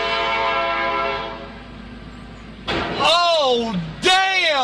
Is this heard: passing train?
yes